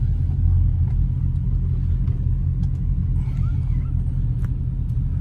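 Dodge SRT car engine rumbles steadily from inside the cabin while driving on the road, a constant loud low drone with light road noise and no talking.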